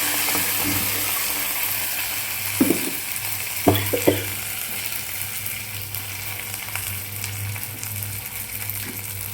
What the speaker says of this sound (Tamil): இப்போ அந்த முருங்கைக்கீரை பேஸ்ட் இருக்கு இல்லையா அதை ஊற்றிடலாம்